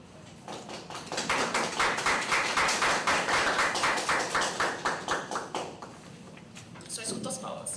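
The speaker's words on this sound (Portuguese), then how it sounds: "Só escuto as palmas" An audience at a university seminar applauds in a steady, evenly paced rhythm of claps for several seconds before it tapers off and a voice speaks.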